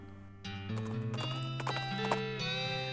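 Horse hooves clip-clop in a steady trotting rhythm over sustained tonal background sounds, close and fairly quiet.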